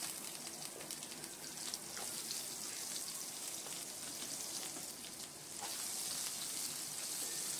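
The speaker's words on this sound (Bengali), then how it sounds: "এবার কড়াইতে আর একটু তেল দিয়ে দিলাম, প্রায় 3 চামচ মতো। এবার আলু আর পটলটা ভেজে নেব।" Potatoes and pointed gourd frying in oil in a wok, a dense, steady hiss and crackle of sizzling that carries on evenly throughout, with no voices.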